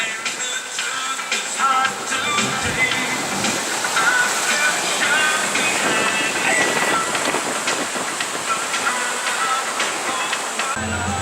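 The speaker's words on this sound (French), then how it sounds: "Surfer les vagues au milieu de l'Atlantique." A sailboat in the Transquadra 2018 race, sailing from Madeira to Martinique, surfs ocean waves in the mid-Atlantic, producing a continuous loud rush of water and wind across the whole stretch.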